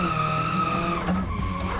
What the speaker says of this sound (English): we're drifting in the city